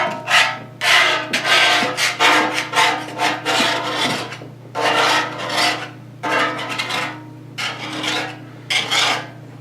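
Paint softened and deteriorated by oven cleaner is scraped off a South Bend pedestal grinder in loud, rasping strokes close to the mic, about a dozen rhythmic bursts separated by short pauses, with a low steady hum underneath.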